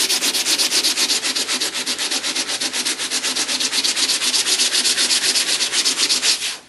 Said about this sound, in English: Now I'm using some 50 grit sandpaper, but this is some really cheap sandpaper.